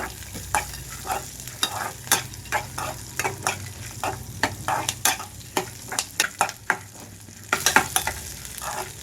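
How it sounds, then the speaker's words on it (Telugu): Peanuts and green chillies roasting on low flame in a pan for a ridge gourd chutney, with a steady run of dry scraping and rattling stirs, close and fairly loud, over a faint background sizzle. "పల్లీలు వేసిన తర్వాత పచ్చిమిరపకాయలు కూడా వేసి వేయించుకుంటున్నాను లో ఫ్లేమ్లో ఉంచి రెండు నిమిషాల పాటు వేయించుకుంటున్నాను"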